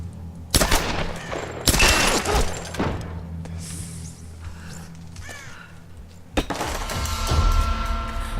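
Rifle fire in the Tomb Raider video game: a few sharp, loud shots land at separate moments against quieter game ambience, with a clattering burst near the end.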